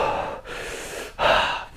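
Fast, hurried breathing during weightlifting reps, two heavy forceful breaths close to the mic, the second a sharper, louder huff with no pause between.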